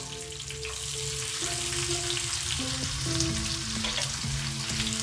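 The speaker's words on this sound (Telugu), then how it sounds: "ఇవి దోరగా వేగించాలండి." Onion pieces and curry leaves frying in a pan, a steady close crackling sizzle with occasional stirring scrapes and no talking.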